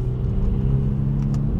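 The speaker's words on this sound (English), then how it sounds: "And the sound it makes when it shifts," A 2024 Volkswagen Polo GTI accelerates and shifts gears, giving a steady close engine rumble and whir with brief higher bursts near the end, with no talk.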